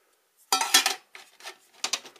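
Clattering and clinking of aluminium camping plates and a saucepan handled close by, in three short bursts of metallic knocks separated by brief pauses.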